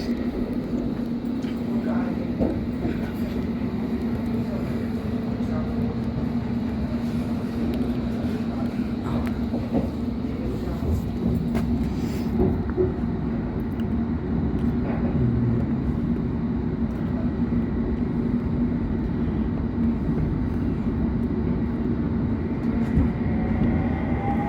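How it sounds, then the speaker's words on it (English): A London Underground Hammersmith and City line train runs toward Barking, with a steady low rumble and hum, occasional rattles and clunks, and a soft tonal whine. It sounds close and constant throughout, with faint voices in places. "Oh my gosh, the sounds of these trains are so cool."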